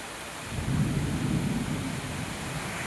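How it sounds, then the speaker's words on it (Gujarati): Heavy monsoon rain with rumbling thunder during flooding in Surat, a steady low roar that swells after the first half second and holds loud and continuous throughout, with no voices. "ધબધબાટી વરસાદ ચાલુ છે ને પાણી એટલે કમર સુધી, ગળા સુધી બધે પાણી ભરાઈ ગયા છે"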